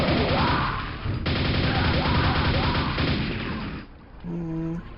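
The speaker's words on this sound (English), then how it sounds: "Nail gun." A nail gun firing in a retro first-person shooter played in VR, giving a rapid, loud stream of harsh mechanical shots for about four seconds before it cuts off and a short descending tone sequence follows.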